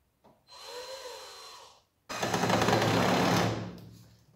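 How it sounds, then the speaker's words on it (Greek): Power screwdriver driving screws into an accordion door, a short whirring run followed by a longer, louder burst of motor noise and grinding, close up. "βιδώνουμε τις βίδες πάνω"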